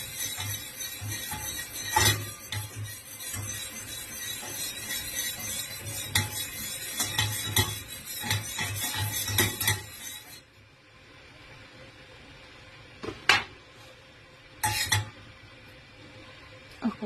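A spoon stirs a batter of glutinous rice flour, sugar and water in a bowl for tikoy, with soft scraping and clinking against the sides that come in bursts, then pause before a few sharper knocks.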